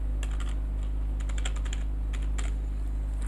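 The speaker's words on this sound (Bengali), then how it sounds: "এখানে আমি ম্যাথ লিখলাম, এখানে লিখলাম ইংলিশ, এখানে লিখলাম হচ্ছে বায়োলজি" Keys clatter on a computer keyboard while text is entered in MS Word, a steady run of close, crisp clicks in uneven bursts over a low constant hum, with no talking.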